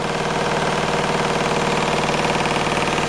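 An old washing machine on a normal wash cycle runs its spin at 1200 rpm, giving a steady, loud mechanical drone with a rapid rhythmic throb, continuous and close throughout with no talking.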